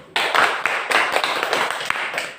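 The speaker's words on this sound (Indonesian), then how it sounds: "Tepuk tangan dulu untuk Filipus" Students in a primary classroom clap for a classmate, a short burst of sharp, fairly close hand claps with a few distinct louder taps standing out, sustained for a couple of seconds.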